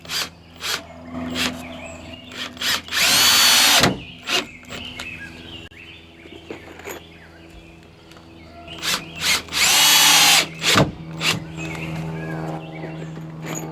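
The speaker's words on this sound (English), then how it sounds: "Alright, let's get screwing together on this. Let's make us a post." Power drill driving screws into wood to assemble a 4x4 mailbox post outdoors: two long loud whirring runs, each surrounded by short clicks and knocks of handling, close up with no talking.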